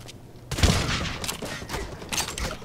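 A short, loud flurry of rapid gunshots fires in the shooter game Blacklight Retribution.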